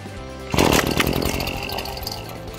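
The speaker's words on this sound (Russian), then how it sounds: "вспышки триммер подхватит и тут же заглохнет" A petrol string trimmer engine catches with a sudden loud buzzing burst, then sputters and fades as it stalls moments later.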